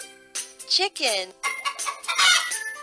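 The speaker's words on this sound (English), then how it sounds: "Chicken." Cartoon chicken clucking and a rooster crowing, loud and close, layered with bright jingles in a children's educational puzzle game.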